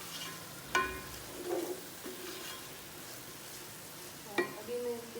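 A spatula works through chicken fried rice in a frying pan, giving scraping strokes and a few sharp metallic knocks over a soft continuous sizzle, close up.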